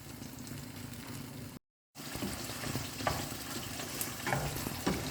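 Ingredients for fried chicken with shallots sizzle and crackle in a hot pan, a continuous frying hiss with scattered pops, cut by a brief silent gap partway through, with no talking.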